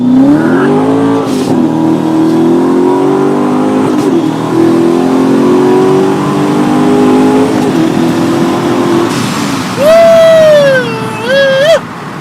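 A Chevrolet Corvette C7 exhaust revving hard up close, a loud, rasping V8 roar climbing and falling through several pulls, ending in sharp blips.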